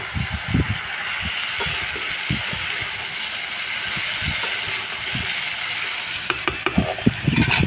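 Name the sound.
stirring potatoes and vegetables in a pan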